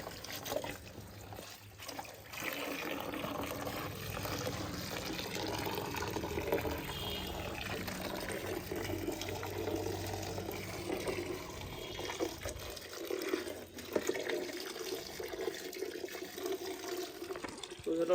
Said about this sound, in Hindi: पहले बाल्टी को भरते हैं।